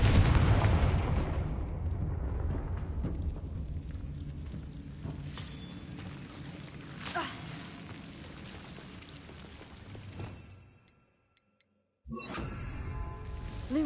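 Blasting-spell explosion in the video game Hogwarts Legacy, a loud rumbling boom at the start that decays into a long fading roar, a brief near-silence, then a fresh burst of noise at the end.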